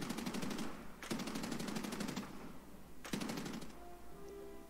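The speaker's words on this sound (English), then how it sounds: "here's what it looks like firing guns with a convergence set at 50 meters" Aircraft guns fire in War Thunder with convergence set at 50 meters: three loud, rapid machine-gun bursts, each lasting about a second, followed by a fading engine hum.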